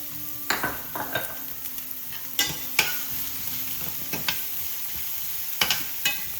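Onions with a pinch of salt fry in a pan, a steady close sizzle broken by a few sharp scrapes and stirs of a spoon, with no voices.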